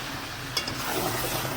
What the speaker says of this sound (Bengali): মশলাটা নাড়িয়ে